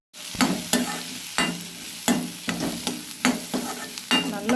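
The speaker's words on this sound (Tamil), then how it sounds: "நல்லா வதக்கி விட்ருங்க. இந்த மாதிரி நல்லா வதங்கட்டும்." A spatula scrapes and stirs onions, tomato, coconut and roasted gram sautéing in a pan for Chettinad egg gravy, with regular knocks against the pan over a soft, steady sizzle, close and alone.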